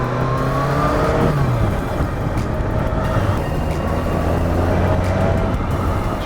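BMW K100RS motorcycle engine while riding, a continuous loud drone with rising and falling pitch as the revs change, wind noise over it and no talking.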